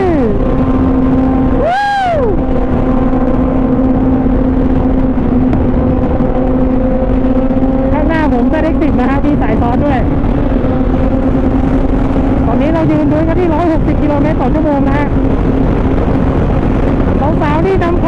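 Sport motorcycle cruising at a steady highway speed around 144 km/h, a loud continuous roar of engine drone and wind rush that never lets up, with a voice breaking through intermittently.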